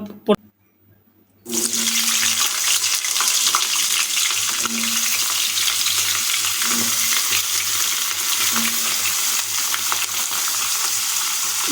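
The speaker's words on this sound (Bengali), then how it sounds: "যেহেতু এই তেলের মধ্যে আমরা লাউ ডাঁটাগুলো দিয়েছি" Peeled bottle gourd stems dropped into hot oil with panch phoron give a sudden loud, steady sizzle after a brief quiet start, with faint low clatter beneath.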